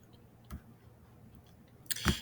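A computer mouse gives two quiet, sharp clicks about one and a half seconds apart, the second slightly louder, over faint background hum.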